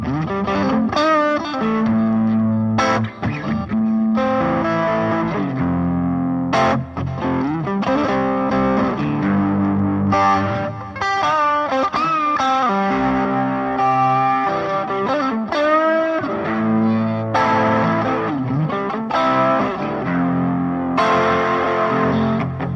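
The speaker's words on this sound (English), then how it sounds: "Next up, the Boss SD1 Super Overdrive, very classic pedal." Electric guitar played through a Boss SD-1 Super Overdrive pedal into a Roland JC-22 Jazz Chorus amp, giving a continuous, loud overdriven tone with strummed chords and melodic riffs, alone without talk.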